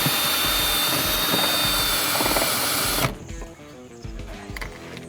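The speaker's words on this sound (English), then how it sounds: "So now I'm just going to drill a hole so I can put my jigsaw in there." A power drill bores a hole through a van roof for fitting a MaxxAir MaxxFan, a loud continuous whine for about three seconds that stops abruptly, leaving quieter clicks and handling noise.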